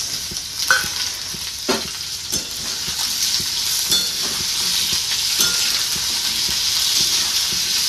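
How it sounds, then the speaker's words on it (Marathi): Thinly sliced potatoes sizzle steadily in hot oil in a pan, a loud continuous frying hiss, with a few clacks of a spoon stirring near the start. "आपण बटाटे धुवून घेतलेले ते बटाटे पण तेलामध्ये टाकून घेतले"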